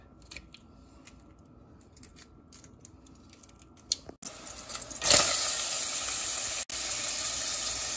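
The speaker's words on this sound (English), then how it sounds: "Peeling the shrimp." Raw shrimp being peeled for a shrimp tuna macaroni salad gives faint, sparse snipping and shell clicks at first. Then a tap runs loudly and steadily into a sink.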